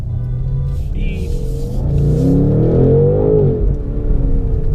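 A BMW M850i xDrive Coupe engine roars as it accelerates hard in New York City traffic, pitch climbing steadily before easing off, loud and close.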